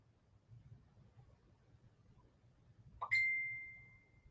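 A phone gives a single bright notification ding in a quiet room, the tone ringing out and slowly fading over a low background hum.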